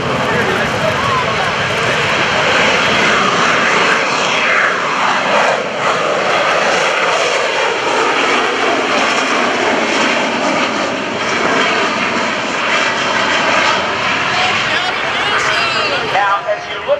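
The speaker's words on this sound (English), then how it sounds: "AV-8B Harrier 2." A US Marine Corps AV-8B Harrier II jet roars loud and steady at a naval air station airshow, its broad engine noise sweeping slightly in pitch as it passes. A voice talks over it.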